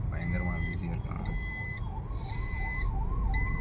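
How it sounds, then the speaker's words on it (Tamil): An ambulance siren wails on a busy street in Paramakudi, its repeating tones rising and falling loudly over dense traffic noise and a voice speaking. "ஆம்புலன்ஸ் போகுது"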